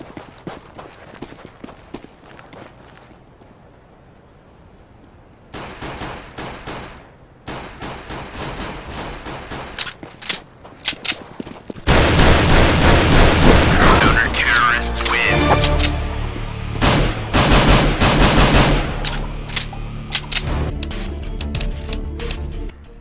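Gunfire from Counter-Strike: Global Offensive weapons, including a P2000 pistol and SSG-08 sniper rifle, comes in sharp bursts and rapid volleys, growing louder and denser midway with overlapping shots and game effects.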